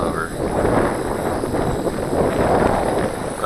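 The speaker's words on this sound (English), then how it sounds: "Trying to hold a hover in the wind here." Strong wind buffets a microphone in a steady, loud roar while a LaTrax Alias quadcopter holds a diagonal hover in very high wind, with no pause through the whole stretch.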